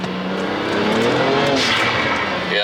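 A BMW 335xi with a worn-out clutch accelerates hard, its engine note rising in a steady loud drone that swells and climbs in pitch over a couple of seconds, close and continuous.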